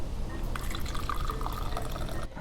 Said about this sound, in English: I'm gonna pour a little bit of milk.